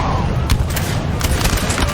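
Cannon canister shot firing across a Napoleonic battlefield in the Total War strategy game, a dense rumbling barrage with several sharp blasts rising over continuous low battle noise.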